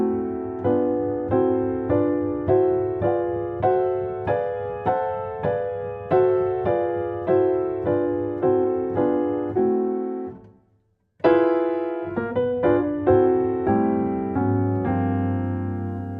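Block chords played in steady, evenly spaced strikes as they climb a minor scale with diminished chords between. A brief silence follows, then a shorter run of chords resumes. The sound is close and clear, with no voices.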